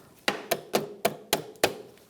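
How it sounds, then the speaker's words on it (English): Six sharp metallic hammer taps drive a lock ring down on a 1999-2006 Chevrolet Silverado 1500 rear bumper, struck at a steady, slightly uneven pace, close and clear with no talk. "try to hammer it down while you're holding that in place."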